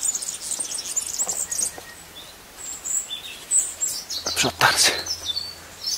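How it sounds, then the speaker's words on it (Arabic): Small bird chirps and brief song phrases from a European robin in the distance in Khenifra, Morocco, interrupted by a short spoken word over outdoor background noise. "السطيله اللي كتغني هي فوق"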